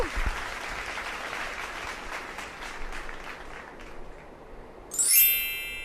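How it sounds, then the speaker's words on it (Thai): Applause for primary school students in a science lesson, a light, thin patter of clapping fading over several seconds, then a bright chime-like ding rings out near the end. "ขอเสียงปรบมือให้กับนักเรียน"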